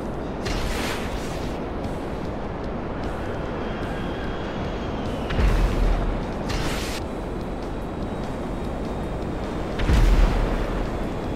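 Two deep booms from a missile destroying a hostile aircraft rise out of a constant loud rumbling roar, one mid-way and one near the end.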